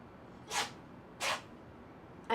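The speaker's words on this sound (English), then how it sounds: "I apologize if you can hear Simba sneezing in the background" A pet animal sneezes three times in a quiet indoor room, short sharp bursts spaced about half a second apart, the last cut off at the end.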